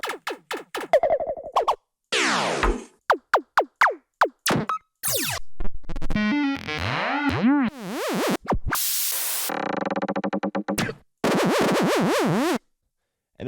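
Tech house laser effects fire one after another in a loud, dense string, with zapping pitch-sweeping blips, chirps and short noisy bursts and no voices.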